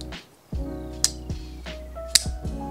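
An Arcform Catalyst flipper knife on bearings snaps open and shut up close in a few crisp metallic clicks and ticks separated by short pauses, with a faint steady hum underneath.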